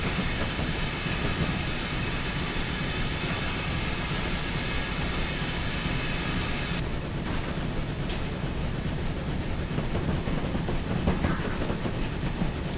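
Steam locomotive 3440 City of Truro in a Train Simulator 2013 run from Paddington to Reading, blowing off steam: a steady, loud broadband hiss over rolling rail rumble, continuous throughout, with no voices.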